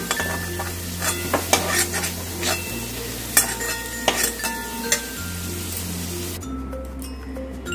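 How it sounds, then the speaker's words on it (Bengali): Potatoes fry in hot oil, a steady sizzle broken by repeated scraping and stirring clinks of a utensil against the pan, close and moderately loud. "আলুগুলোকেও আমি খুব সুন্দর লাল লাল করে ভেজে নিলাম"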